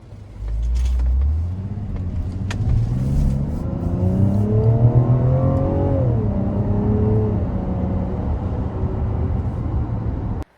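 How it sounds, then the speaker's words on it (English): A 2026 Mazda CX-90 Turbo Preferred three-row crossover accelerates hard. Its engine note climbs steadily in pitch, loud and close, with a steady road and wind roar underneath. Nobody speaks. "Let's see an acceleration test."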